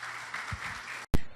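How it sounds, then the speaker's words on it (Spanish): Broad, steady crowd applause at a church service filling the clip, then a sudden brief break followed by a loud burst as the clapping resumes. "Démosle un fuerte aplauso al Señor"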